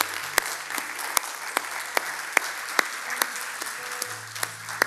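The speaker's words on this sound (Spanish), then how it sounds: "Le damos un aplauso al Señor." Congregation clapping in a church service, a dense sustained wash of applause with occasional louder individual claps standing out, steady throughout.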